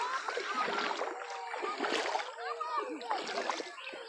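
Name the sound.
wading through canal water, splashing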